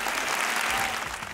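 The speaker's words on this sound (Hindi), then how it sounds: "बजाओ तालियां" A studio audience at a Pakistani comedy talk show bursts into loud, dense applause, a continuous close wash of clapping that fills the brief moment.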